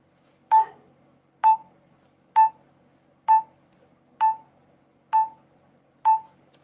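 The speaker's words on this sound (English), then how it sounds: "saw what a tempo pattern is, something that sounds like this." A rhythmic tempo pattern is played as seven sharp, pitched beats, evenly spaced just under a second apart. Each beat rings briefly and decays before the next, with nothing else around it.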